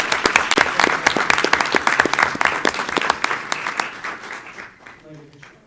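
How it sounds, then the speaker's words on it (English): Applause at a school board of education meeting honoring nationally commended students: a room of many hands clapping steadily, loud and dense, then thinning and fading out toward the end. "So round of applause, guys."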